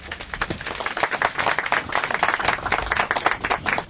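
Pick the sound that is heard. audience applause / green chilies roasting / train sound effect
audience applause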